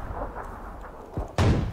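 Gunfire in PlayerUnknown's Battlegrounds, a loud sharp shot bursting in near the end after a softer thump, over a busy low game rumble.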